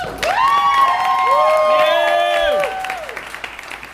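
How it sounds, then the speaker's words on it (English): An audience at the Secretly All storytelling stage breaks into applause with loud whoops and high, sweeping cheers that fill the room, then thin out into scattered clapping. "so let's give him a round of applause."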